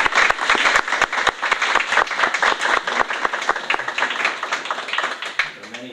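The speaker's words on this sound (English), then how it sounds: "I want to give her a warm round of applause" A room of people at a budget meeting claps warmly for a retiring board member, sharp individual claps at first blending into a lively round that tapers off near the end.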